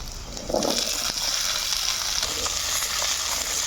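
Potatoes and eggplant fry in hot oil with chopped onion, making a strong, continuous sizzle that swells just after the start and holds steady, broken by a few soft stirring scrapes.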